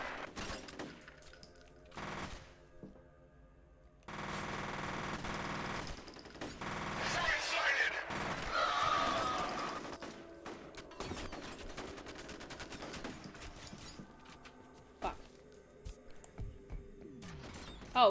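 Automatic weapon fire in the shooter game F.E.A.R. Perseus Mandate, heard as rattling bursts and a sustained volley over game noise, fairly faint, with a person talking at times.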